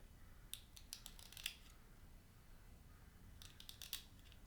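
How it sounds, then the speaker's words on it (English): Scissors trimming the corner of a krummhorn cane reed, two quiet clusters of short crisp snips close by with a pause between them. "Just trim a little bit off this corner."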